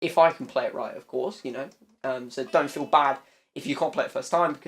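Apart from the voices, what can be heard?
No everyday noises stand out.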